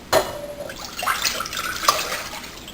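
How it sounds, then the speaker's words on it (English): Water splashes into a pan with metallic clinks and trickling, about two cups of water for instant potatoes, close and moderately loud, with no one talking. "Pour it in your pan."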